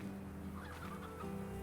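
Chickens in Slime Rancher cluck softly in a quiet, steady game ambience, a few short fowl calls sitting over a low background drone.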